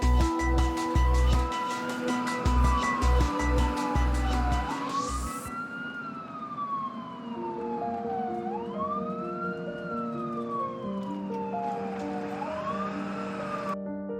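An ambulance siren during a patient transfer, wailing in a loud rising-and-falling sweep that repeats steadily, preceded by a few seconds of rapid clattering, with no talk.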